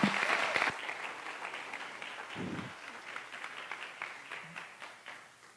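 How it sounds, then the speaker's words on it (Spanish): An audience applauds during a talk in a church, a fairly quiet spread of clapping that fades gradually over several seconds, preceded by a short louder burst at the start. "Démosle un gran aplauso a Álvaro, por favor."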